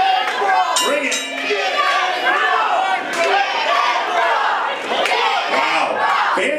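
Crowd of fans at a fight event roaring and cheering throughout, a dense, loud wall of shouting voices with surging cries and occasional sharp clinks.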